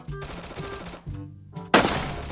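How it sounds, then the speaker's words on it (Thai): Gunfire in the video game Free Fire comes in several sharp bursts of automatic shots, separated by brief pauses, ending in a louder, close blast. "แล้วมันยิงกันด้วยนะข้างหน้า"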